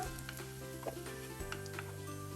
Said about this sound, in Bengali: পেঁয়াজকে ভালো মতো করে একটু ব্রাউনিশ করে নিলাম